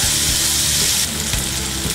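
Chopped onions and green chillies sizzle and fry in a pan for bitter gourd bhaji, a loud, continuous crackling hiss up close with a brief stirring shift midway.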